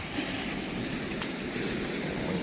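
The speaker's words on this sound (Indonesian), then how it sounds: "di sini pun saya dengar ada suara pecahan ombak" A continuous rushing roar of surf washing over rocks, steady and fairly close, with no voices.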